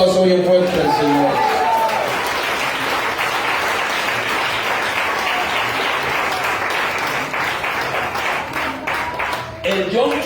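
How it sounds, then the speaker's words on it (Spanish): A church congregation breaks into loud, sustained applause that rolls on for several seconds, briefly overlapping with speech at the start and again as it fades. "Denle ese aplauso bien fuerte al Señor."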